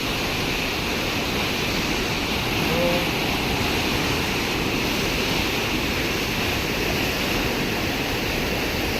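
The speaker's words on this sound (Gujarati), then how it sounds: "અહીંયા જો આપણે પાણીના કેવા ધોધ પડે છે। ઉપરથી એવી રીતે પાણી આવે છે" Water pours from above into a large canal as a waterfall, a steady, loud, broadband rushing roar that holds constant throughout with no pauses.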